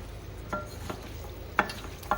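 Chicken pieces are mixed with oil and spices in a bowl, giving a few soft wet scrapes and clinks spaced apart over a quiet background, close by, with no talking.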